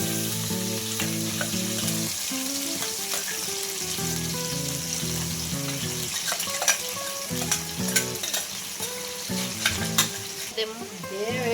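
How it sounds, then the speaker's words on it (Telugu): A ground paste mixture is fried and stirred in a pan for stuffed eggplant curry. There is a constant loud sizzle with irregular spoon scrapes that grow busier toward the end, under a steady tonal drone, and no talking. "మొత్తం కలిపి ఫ్రై చేసుకోవాలమ్మా."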